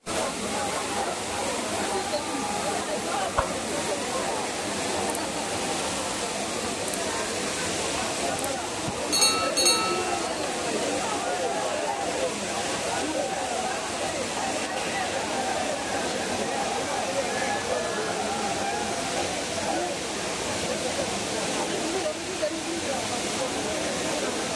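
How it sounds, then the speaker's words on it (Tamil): Courtallam waterfall is in heavy flow, a steady, broadband roar of rushing water that holds at an even level throughout, with brief faint high tones near the middle. "தண்ணி பயங்கரமாக வருது"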